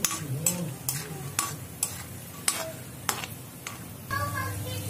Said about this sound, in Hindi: अब हम सबसे पहले इसमें जो हमारी मूंगफली है इसको हल्का फ्राई कर लेंगे